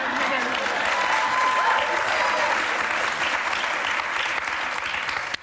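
A studio audience at a talk show applauds and cheers, a loud, sustained wash of clapping and crowd noise that fades slightly toward the end, with voices faintly under it.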